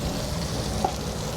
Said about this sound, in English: In the same wok, add your vegetables.